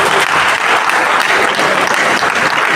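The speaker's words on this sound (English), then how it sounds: "Please, I think he deserves a round of applause for that." An audience at a conference opening ceremony claps in dense, sustained applause that fills the whole moment, loud and close, with no voices over it.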